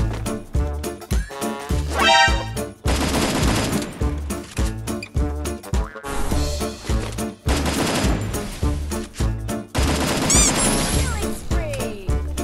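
Rapid bursts of gunfire in a shooter video game, loud automatic fire repeating in close, dense volleys with brief gaps, while a player talks excitedly over the shots.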